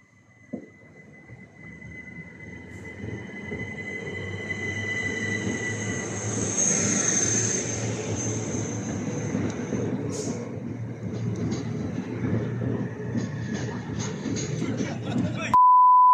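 A Southeastern train departs Dover Priory station, with a steady low rumble that builds and holds and a brief electronic beep partway through. People talk nearby.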